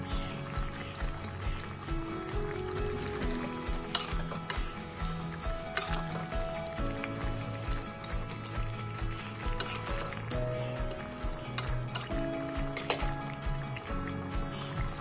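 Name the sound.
fried koi fish added to curry, sizzling and stirring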